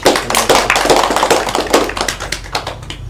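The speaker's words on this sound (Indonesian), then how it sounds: "mungkin beri aplaus dulu untuk kelompok 2" A classroom group claps for a presenting team, a burst of many overlapping hand claps, dense and fairly loud at first, then thinning to scattered claps near the end.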